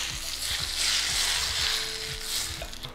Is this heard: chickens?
no